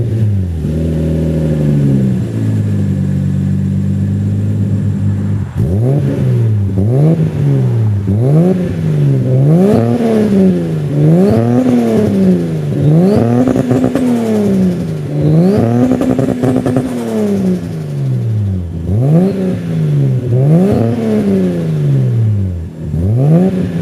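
A turbocharged Lexus SC300 engine, converted from naturally aspirated, revs repeatedly at idle. Rising and falling vroom sweeps swell and drop in a steady rhythm, loud and close, with no voices.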